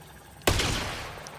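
A single loud sniper rifle shot rings out in the video game Borderlands 4, a sharp crack with a long decaying tail, followed near the end by the onset of a second burst.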